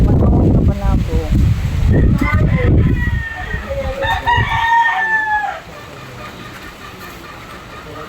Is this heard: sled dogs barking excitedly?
no